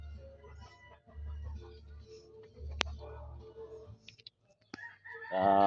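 A bantam and labuyo crossbreed rooster starts a loud, close crow at the very end, after a quiet stretch of low hum and small scattered noises.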